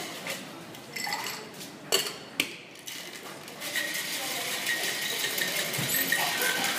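A margarita is shaken with ice in a cocktail shaker. A few sharp metallic clanks come first, then a continuous rattling shake builds and carries on steadily.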